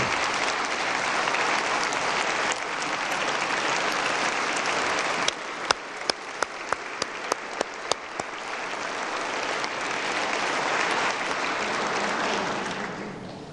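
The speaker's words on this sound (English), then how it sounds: "Give them a giant round of applause." Sustained applause fills a state legislative chamber during a governor's address, a thick continuous roar of clapping with a few sharper, louder claps standing out midway before it tapers at the end.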